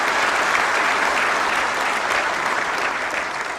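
Steady, loud audience applause from a large crowd at a national logistics policy launch event, continuous and even throughout with no voices breaking through.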